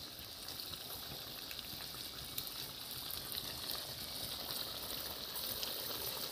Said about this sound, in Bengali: মাংস কষানো চলছে, লবণ দেওয়া হলো।